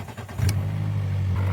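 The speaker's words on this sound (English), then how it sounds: "Now start the car." A Mercedes with a low battery and a failing alternator cranks briefly and then catches, settling into a steady, close idle hum.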